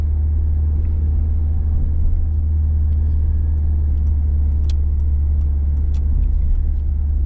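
A 2.0-litre Ford Sierra 2.0i Ghia drives steadily with a constant low engine drone and road rumble heard from inside the cabin. A few faint ticks and knocks sound over it.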